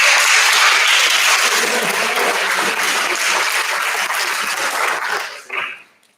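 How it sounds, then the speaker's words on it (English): A crowd at a winter sports awards night breaks into sustained, loud applause for a basketball champion, holding steady before fading out with a few last claps. "So I think that deserves a round of applause."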